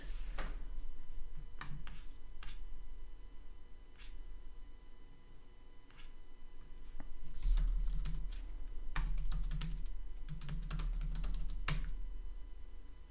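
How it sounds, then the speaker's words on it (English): Typing on a computer keyboard while entering an AWS command-line configure command, with scattered clicking keystrokes and short bursts of rapid taps, close and fairly quiet over a steady low hum. "And we're going to type AWS dash dash configure."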